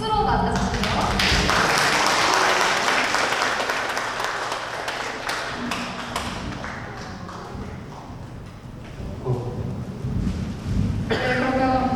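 An audience at an evening talk concert welcomes a documentary producer with applause, broad clapping at first that thins and fades, with an amplified host's voice coming in over it toward the end.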